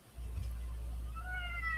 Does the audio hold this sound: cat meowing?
yes